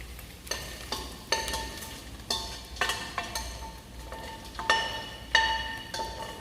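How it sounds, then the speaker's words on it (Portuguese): Fried calabresa sausage tipped into a pan of ground beef, giving a steady sizzle with repeated stirring scrapes and light clinks at close range, no voices. "Eu vou acrescentar essa calabresa aqui na minha carne moída"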